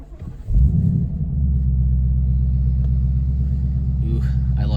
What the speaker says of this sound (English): I'm gonna power on the car